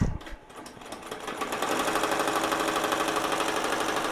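A BAi Mirror embroidery machine stitching an appliqué, tacking down fabric before satin stitching, gives a fast, even mechanical chatter that builds over the first second and then holds steady and close.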